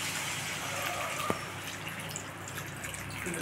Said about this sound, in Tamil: அப்புறம் கொஞ்சம் நம்ம தண்ணி சேர்த்துக்கலாம் வேகிறதுக்கு